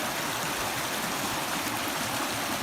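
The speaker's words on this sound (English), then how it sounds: "the water churns and turns and turns" Stream water churning and turning beside a hiking trail down to an old pump station in a state park, a steady, loud broadband rush with no pauses and no voices.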